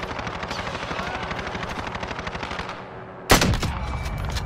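Helicopter rotor chopping steadily in a first-person shooter match, a rhythmic thumping that drops away before a sudden loud burst of gunfire cuts in and continues.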